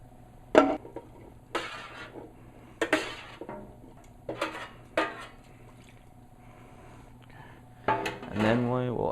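Venison chili being scraped and poured from one pot into a bigger cooking pot, a series of loud metallic clanks and scrapes, then a sloshing pour near the end.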